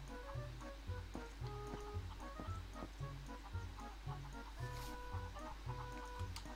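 Chickens in The Legend of Zelda: Twilight Princess cluck in a steady, repeated pattern of short bursts, close and clear over a constant low game hum.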